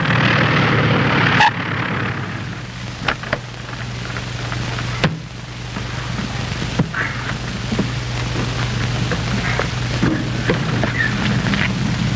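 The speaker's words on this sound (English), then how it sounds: "But with all the power on, Harry barely picks up enough airspeed to climb out of the ground effect." A steady, loud engine drone of a small propeller plane taking off and climbing fills the whole stretch, with occasional clicks and rattles over the continuous roar.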